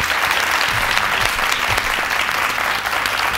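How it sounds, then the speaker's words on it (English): Loud, dense audience applause in a studio setting after a leaders' debate on a competition show; steady, close clapping from a full crowd that carries unbroken throughout. "A round of applause for our leaders' debate."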